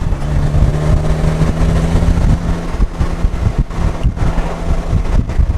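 Polaris Slingshot three-wheeler rolling around a roundabout, its engine humming steadily under heavy wind buffeting and road noise, close and loud, with brief gusty bursts near the end.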